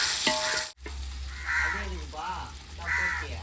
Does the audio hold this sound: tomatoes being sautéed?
yes